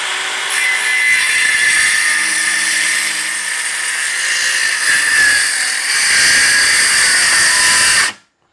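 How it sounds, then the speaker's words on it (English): A Skil 12-volt cordless trim saw cuts through wood, a steady loud whirring buzz that runs for about eight seconds and then cuts off abruptly, with no voices. "Got my little Skil trim saw right here, which is a great little saw."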